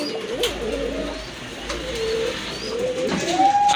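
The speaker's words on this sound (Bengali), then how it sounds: "খুবই সুন্দর এক জোড়া কবুতর, কোয়ালিটি ফুল কবুতর" Indian Bombay pigeons coo in low, rolling, throaty calls, several overlapping phrases close by against a faint background hum with occasional soft knocks.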